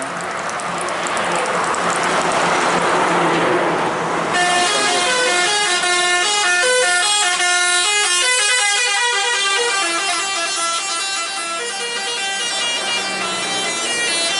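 A tour bus horn honks loudly and continuously, first a noisy blast and then a long musical melody of repeating tones, close by with no talking.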